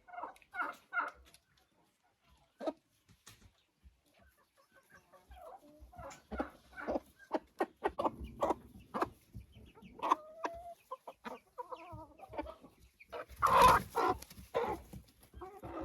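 Chicks and hens in a coop cluck and cheep as a broody hen comes among them, a scatter of short, close calls building to a louder flurry near the end, with no talking.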